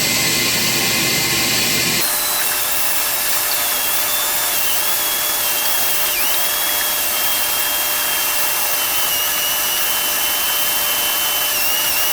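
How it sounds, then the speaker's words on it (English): A vacuum cleaner runs steadily inside an original Bally Midway Galaga arcade cabinet during a teardown, with a loud continuous whine that starts abruptly and holds for the whole stretch, with slight shifts in pitch as the nozzle moves. "So now we're going to grab the vac and we're going to give the inside a good tidy out."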